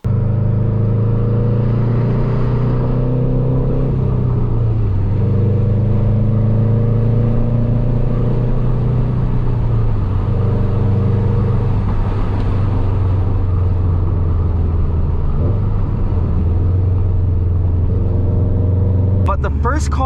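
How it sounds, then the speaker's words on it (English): Car driving along Alaska's scenic highway, a steady low engine rumble and road drone with gradual shifts in pitch as it changes speed, constant throughout with a sharp rattle near the end. "taking you guys on a beautiful drive on Alaska's scenic highway"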